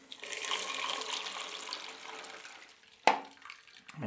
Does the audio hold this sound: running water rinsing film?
yes